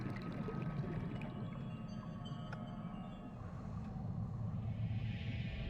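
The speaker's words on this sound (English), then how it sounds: "I guess because there's a lot of bubbles around here" Underwater bubbles flow in a low, continuous rumbling wash, steady and fairly faint throughout the video game scene.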